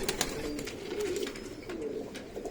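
A pigeon held in the hand gives low, soft cooing close by, a repeated throaty murmur over faint handling rustle, with no speech.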